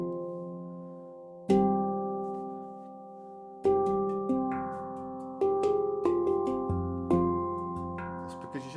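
Handpan struck in a flat-five power chord: several bright ringing tones start together, then more notes added in separate strikes, each ringing out and overlapping in a resonant metallic chord, close and moderately loud.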